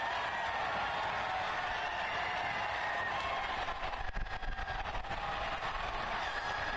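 A record crowd at a One Knoxville SC versus FC Tulsa soccer match roars and applauds after a goal, a steady wash of cheering and clapping that fills the stadium, with no talk over it.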